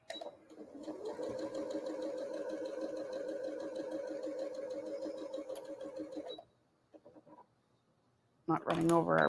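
A sewing machine runs steadily for about six seconds while stitching a quilt block under the presser foot, then stops, with a brief burst of other sound at the end.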